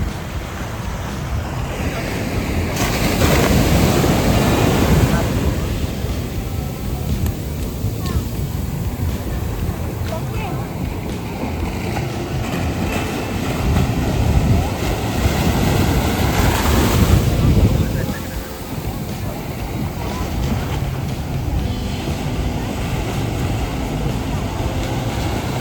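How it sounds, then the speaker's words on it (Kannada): Sea waves break and wash on the shore at Calicut, India, with steady loud surf swelling in two bigger surges, wind buffeting the microphone throughout. "ನೀವು ಈ ಅಲೆಗಳನ್ನ ಎಂಜಾಯ್ ಮಾಡಿ."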